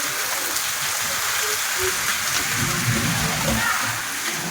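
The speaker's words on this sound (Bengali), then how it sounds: "মেঘ কি বৃষ্টি হচ্ছে দেখো" Rain pouring steadily in a continuous loud wash of patter and splashing, with a faint voice now and then underneath.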